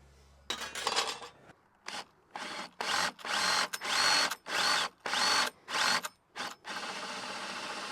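Power drill boring 3/4 inch Forstner bit holes in wood during a newel post and balustrade install: loud whirring bursts in repeated on-off pulses, one long grind then several short revs, close up with no speech.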